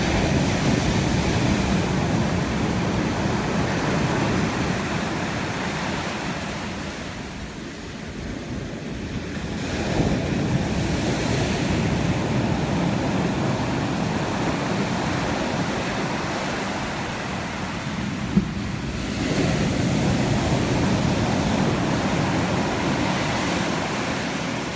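Ocean surf rolling in at Kendall's Beach on the south coast of New South Wales, a broad continuous wash with wind buffeting the microphone, swelling and easing in a couple of slow surges.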